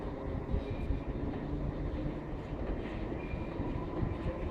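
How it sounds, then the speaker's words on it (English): A London Underground District line train rumbles past at a moderate distance, a steady low roar of wheels on track with faint squeals, no voices. "there is a district line train making its way along the south side"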